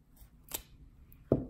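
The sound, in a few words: scissors cutting a little triangle into ribbon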